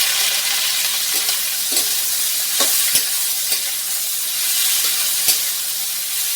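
Hot oil sizzles with spices being tempered, a steady bright hiss, with occasional soft clinks and stirring taps over the crackle and no voices.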